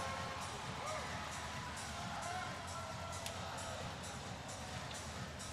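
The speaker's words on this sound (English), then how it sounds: "And this crowd has come unglued here in Columbus" Hockey crowd in Columbus cheering and whooping after a hat-trick goal, a sustained, distant roar of arena noise with scattered shouts.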